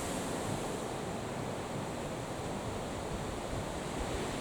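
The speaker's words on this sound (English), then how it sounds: "It is super, super windy." Strong wind blows outdoors on a very windy day, a continuous, loud broadband rush that buffets the microphone and stays steady throughout, with no voices.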